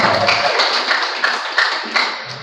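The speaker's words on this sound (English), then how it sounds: "A round of applause once more." Audience members applaud at a conference launch, producing a steady patter of scattered claps with a few louder hits, heard fairly close and without talk.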